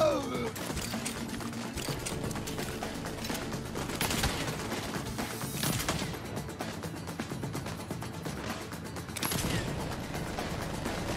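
Gunfire in the Saints Row video game crackles in repeated bursts and volleys over a busy game soundscape, with several sharper clusters of shots standing out.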